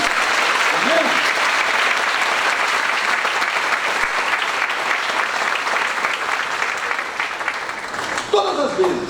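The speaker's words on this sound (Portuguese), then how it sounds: "Dá um aplauso para ele então, hein?" Congregation applause inside a church during a sermon, a dense sustained wash of clapping that fills the space loudly for several seconds before thinning out near the end.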